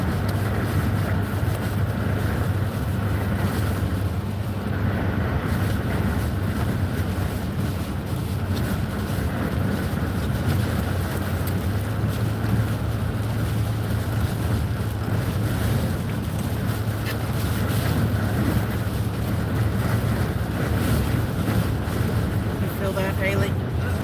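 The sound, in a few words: strong wind gusts shaking a parked van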